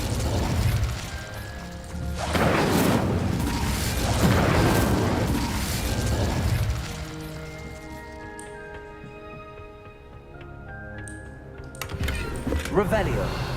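A fire spell cast in the video game Hogwarts Legacy bursts out as a series of loud, roaring whooshes over the first seven seconds, then gives way to quieter sustained tones that fade out.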